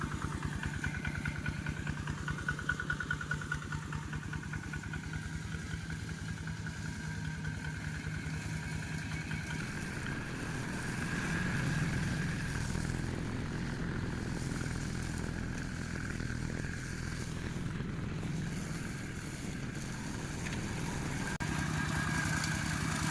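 Kubota 15.5 hp ride-on lawn mower with hydraulic automatic drive running in a durian orchard, a steady mid-pitched engine drone that holds throughout and swells slightly partway through, close and alone.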